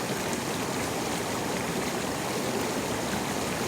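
Water in a hot tub gives a constant, close, even bubbling and rushing wash with no pauses.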